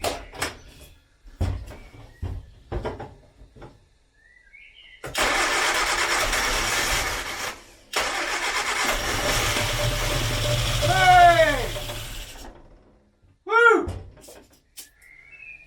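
A 1970s Austin Allegro engine is cranked and catches with the throttle held open, running roughly for several seconds before dying, with clicks and clunks before it and talk and exclamations around it.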